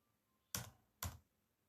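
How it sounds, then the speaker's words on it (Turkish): Two sharp, close keystrokes on a computer keyboard while typing a chat message, evenly spaced about half a second apart in a quiet room. "Şimdi tekrar chat'e aynısını yazıyorum."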